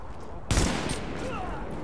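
A single loud gunshot in The Division video game, a sharp burst followed by a decaying tail, with faint background game noise after.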